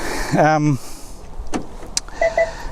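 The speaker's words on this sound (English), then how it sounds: "the car's just locking there" A 2015 Renault Zoe electric car locking: a brief motorized whir of the mirrors folding, followed by a couple of short clicks and a pair of soft electronic chirps, heard close outdoors.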